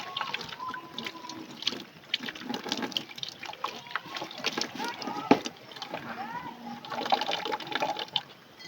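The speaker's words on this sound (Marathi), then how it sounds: "डब्याचं झाकण सैल केल्यावर बघा पाणी कसे बाहेर येते" Water gurgles and trickles out of a container whose lid has been loosened, part of a water-saving project device, a soft, steady splashing flow heard close up beneath a person talking.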